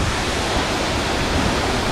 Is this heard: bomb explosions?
no